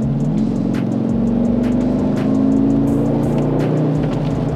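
A gold Mercedes G63 AMG G-Wagon SUV on its stock exhaust revs its engine, a deep, throaty drone that climbs steadily in pitch, heard close and loud without speech.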